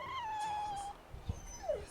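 A dog in the video game Tales of Berseria gives a short whimper and a high, falling whine, fairly faint over a quiet game background.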